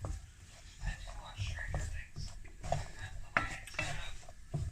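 Chopped vegetables for a pasty filling cooking in a pan, a low steady sizzle with utensil scrapes and stirring clatter, close by, while a person talks quietly over it.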